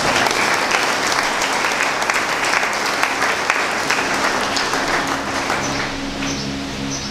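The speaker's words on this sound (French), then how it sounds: "et je voudrais qu'on l'acclame" Applause for Brother François Coly at his silver jubilee celebration, a dense, sustained crowd clapping that fills the hall and slowly tapers toward the end, with no speech heard.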